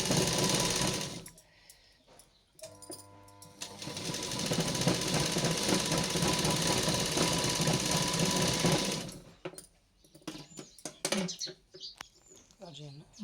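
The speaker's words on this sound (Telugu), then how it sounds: "చక్కగా ఇట్లా కుట్టిన తర్వాత అది ఇలా తీసి దానిపైన ఇట్లా లేవకుండా మళ్ళీ ఇంకో కుట్టు వేసుకోవాలి" A sewing machine stitches a Punjabi dress top with a fast, continuous mechanical whirr that runs for several seconds, with brief pauses before and after and someone talking around it.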